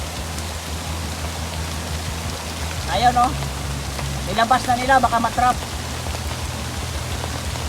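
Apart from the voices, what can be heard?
heavy rain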